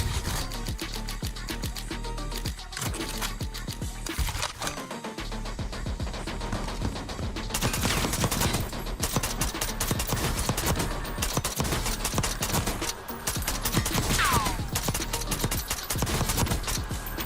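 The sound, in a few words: gunfire from guns being compared in a video game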